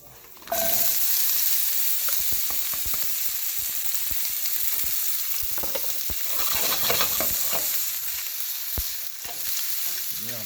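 Chilies frying in a pan on a stovetop give a loud continuous sizzle, broken by repeated sharp scraping clicks as they are stirred with a utensil, close and alone.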